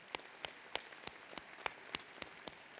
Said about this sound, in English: And now a round of applause.